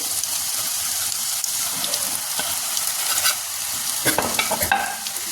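Cut pieces of nimki dough fry in hot oil, a loud, dense crackling sizzle running continuously, with a few sharper bursts and splashes near the end as more pieces drop in.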